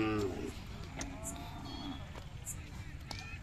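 A Khillar bull calf lows amid the bustle of a Jawala Mhasoba village cattle fair, its harmonic moo rising in a long call near the start, with fainter lowing and crowd murmur and chatter throughout.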